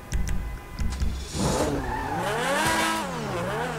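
A modified supercar engine in the video game GTA V revs hard after a few short blips, its pitch swooping up and down in repeated waves, loud and close, with a brief tire-skid texture and no talking.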